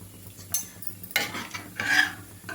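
Salt being stirred into a simmering curry in a pot, a soft scraping and rasping of a spoon against metal in short irregular strokes, close and moderately quiet with no talking.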